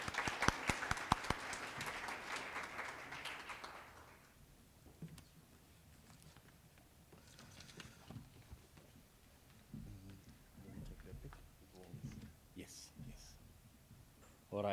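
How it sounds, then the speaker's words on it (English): Audience applause for a panel at a forum on three decades of democracy in South Africa and Lithuania, a fairly loud burst of clapping during the first four seconds that then fades into quieter room noise and scattered voices. "Please, a round of applause."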